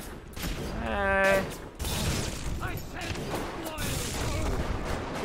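Turret firing in the video game Bioshock, a few heavy booming shots and mechanical clatter mixed with bursts of frantic speech from a player.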